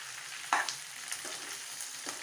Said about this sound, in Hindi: इसमें ऑयल जो है इसको अच्छे से फ्राई कर लेंगे